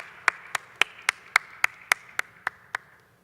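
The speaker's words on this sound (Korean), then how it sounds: "하나님께 영광의 박수 올려드리겠습니다." A church congregation claps in unison, ten sharp, evenly spaced beats at a brisk, steady rhythm, fairly quiet and distant, with no talking over it.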